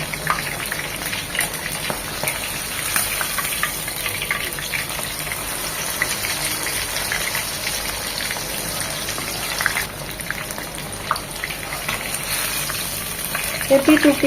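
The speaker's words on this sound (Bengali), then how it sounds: "তেলটা খুব ভালোভাবে গরম হয়ে আসলে আমরা একটা একটা করে চাপ ছেড়ে দেব" Constant dense sizzling of chicken chaap frying in hot oil, crackling steadily throughout with a few sharper pops near the end.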